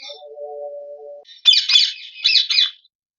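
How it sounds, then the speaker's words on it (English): Ringneck parrots in a breeding colony give a run of loud, sharp squawking calls in two close bursts, after an earlier steady tonal hum. "these are my ringtail birds"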